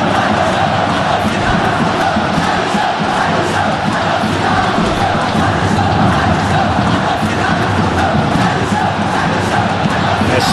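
Dense, steady roar of a large stadium crowd in a PES football video game match, loud and continuous throughout with no talk, a restless swell that never drops away.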